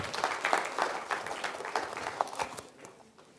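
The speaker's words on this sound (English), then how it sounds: "Give the boys a little round of applause for coming down." Audience applause at a live science demonstration on light and colour, a steady broadband patter of many hands clapping that holds for a few seconds, then thins and fades toward the end.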